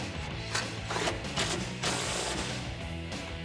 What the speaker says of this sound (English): For our support brackets, we're going to use our wrench and socket.